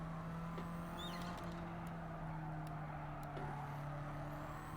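Race cars launch off the starting grid in Gran Turismo 7, a steady mid-loud engine drone with overlapping revving tones holding throughout, no talking.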